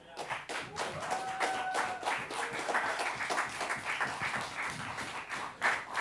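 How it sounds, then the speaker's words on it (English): An audience applauds after a Korean traditional music performance: a dense run of many hands clapping at moderate distance, sustained for several seconds with a few louder claps near the end. "Please clap for Gayoung"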